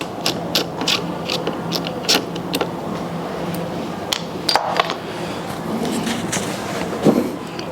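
Screws being removed and the top cabin lifted off a Unitru toy, with repeated close clicks, small scrapes and plastic clatter continuing throughout.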